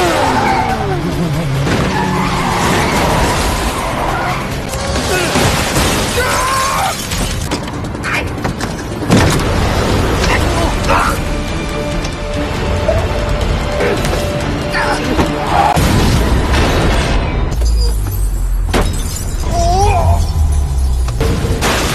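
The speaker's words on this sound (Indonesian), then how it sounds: "Aksi kejar-kejaran pun tidak terelakkan, sampai kecelakaan pun terjadi." Car chase in a Korean drama ending in a crash: engine noise, tire squeal and skidding build into a loud smashing impact with shattering debris, backed by dramatic scoring and brief voices.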